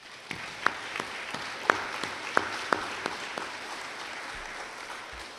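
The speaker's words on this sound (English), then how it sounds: "Let's give those people a round of applause." A high school honors night audience claps in a round of applause, a fairly distant, diffuse patter with a few sharper nearby claps standing out early, fading into a steady soft wash.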